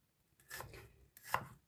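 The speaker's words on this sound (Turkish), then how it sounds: "Doğruyoruz soğanımızı." Two quick knife chops on a cutting board slicing an onion, crisp and close, separated by a short pause.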